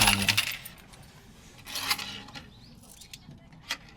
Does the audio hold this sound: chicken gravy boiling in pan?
no